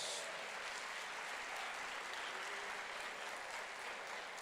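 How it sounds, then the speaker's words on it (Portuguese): Church congregation applauding during a sermon, a dense continuous roar of many hands clapping at once, even and sustained, heard from within the room. "Aplauda e glorifique a Jesus mais uma vez."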